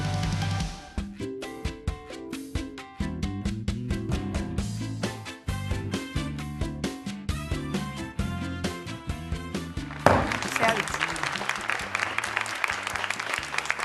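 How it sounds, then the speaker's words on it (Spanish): Studio audience on a TV show clapping, with rhythmic music playing throughout and a louder burst of sustained applause near the end. "Este aplauso es de agradecimiento y reconocimiento a toda nuestra audiencia"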